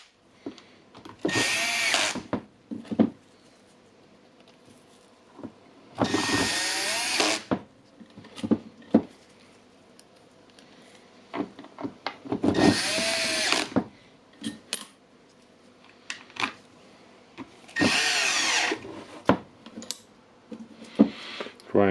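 A power drill drives screws into the plastic housing of a Milwaukee impact wrench being reassembled, four loud whirring bursts of a second or two each, separated by quieter handling and clicks.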